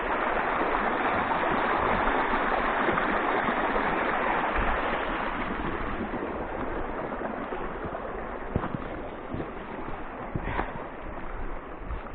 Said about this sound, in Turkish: Bir adı da Ayan Deresi. Ayan Deresi. Mükemmel akıyor.